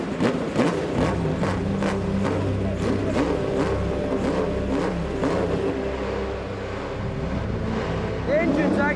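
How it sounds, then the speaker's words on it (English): Old racing car engine idling and running steadily with a rhythmic, smooth mechanical hum, close and continuous, someone talking over it near the end. "The engine's actually quite smooth,"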